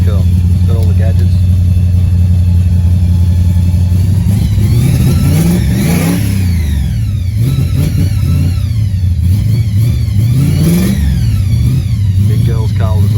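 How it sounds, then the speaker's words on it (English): Ford XC car engine revving on the move, rising and falling through several hard pulls over a constant loud interior drone, with people talking inside. "we're going for a spin in Chris's XC"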